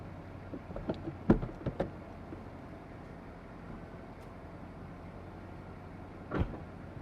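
Cadillac XLR folding hardtop closing with its quarter windows rising: a cluster of mechanical clunks and latch knocks near the start, a steady motor hum through the middle, then a final thunk as the top seats, no voices.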